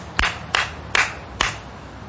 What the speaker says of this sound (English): Apologize for the loud clap.